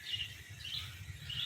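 Small birds chirp in a park with roaming swans, thin high tweets repeating every half second or so, fairly distant and soft over a low steady hum.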